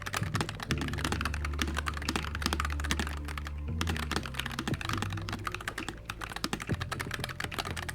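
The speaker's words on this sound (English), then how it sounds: "It's a sleek, low-profile wireless mechanical keyboard." Continuous brisk typing on a low-profile wireless mechanical keyboard, rapid close clacks and key thocks, with a brief pause midway, no voices.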